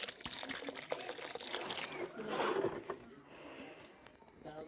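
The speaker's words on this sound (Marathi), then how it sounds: "तुळशीमध्ये पाणी टाकत आहे." Water is poured from a vessel onto a tulsi plant, a continuous splashing trickle that swells briefly, then thins to a quieter dribble, close by and moderately loud outdoors.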